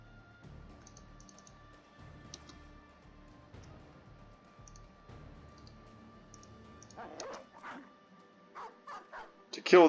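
War dogs in the video game Battle Brothers, a series of sharp barks and yips that start faint and grow louder and closer toward the end, over quiet game sounds and clicking keys.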